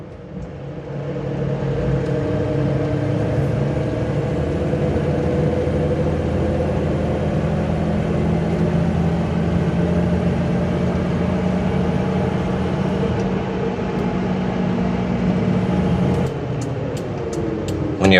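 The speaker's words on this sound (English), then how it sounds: "The tires definitely have a growl to them." Steady interior drone of a 1989 Toyota Land Cruiser on a bumpy road, with a constant low engine rumble and tire growl throughout, ending in a few sharp knocks.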